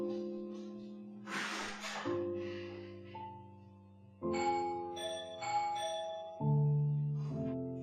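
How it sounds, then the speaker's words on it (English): Very loud doorbell chiming through several successive ringing tones in a home, each strike starting sharply and decaying, with a burst of noisy clatter early on and no talk. "This is how loud my bell is."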